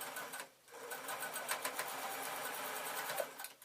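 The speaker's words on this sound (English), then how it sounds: "So we're finished with the sewing machine now." A sewing machine stitches fabric for a large shoulder bag in a fast, even whir with a rapid needle patter, close to the microphone, briefly pausing near the start.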